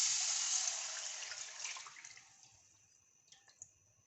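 Chicken stock (yakhni) is poured into a pan of spices in a home kitchen, a close liquid splash and gurgle that fades over a few seconds, followed by faint drips and clinks.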